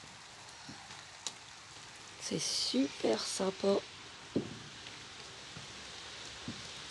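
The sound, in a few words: rain falling outside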